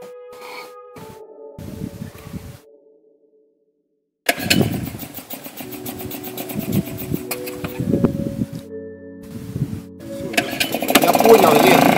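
A small 2.5 horsepower outboard motor on a catamaran sputters and catches, then runs with a steady buzzing drone, close by, with voices talking over it.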